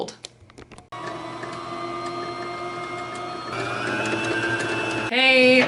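A home sewing machine runs after its bobbin has been rethreaded, a steady mechanical whir that picks up speed partway through and ends in a brief faster burst, following a few quiet clicks at the start.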